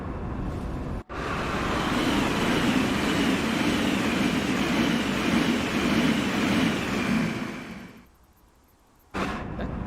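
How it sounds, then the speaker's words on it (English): A train in the video game Train Sim World 3 rumbles past steadily for several seconds, loud and broad, then cuts off abruptly into near silence before a brief burst returns. "The train passing, and it just faded away instantly"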